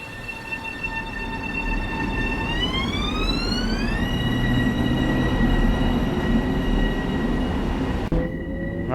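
An M7A MTA commuter electric train on the snowy Harlem Line in Train Sim World 5 runs with a steady rumble, its motor whine climbing in pitch as it accelerates, then cutting off abruptly near the end.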